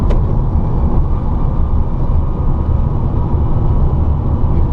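Electric VW Beetle with a DIY conversion and air-cooled Curtis controller rolling along a road, a steady loud low rumble of tires and wind noise with no engine note, continuous from inside the car, no voices.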